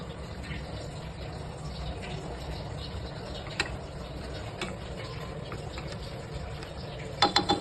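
A spoon stirs egg tomato curry in a pot, making light scraping ticks and sloshing over a steady hiss, with a brief cluster of louder clinks near the end.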